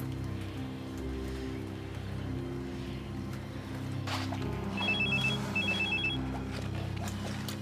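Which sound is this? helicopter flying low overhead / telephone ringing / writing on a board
telephone ringing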